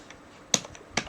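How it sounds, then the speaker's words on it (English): Two sharp, isolated key clicks on a Thai computer keyboard, spaced about half a second apart, close and crisp against a quiet room. "using a Thai keyboard is quite difficult"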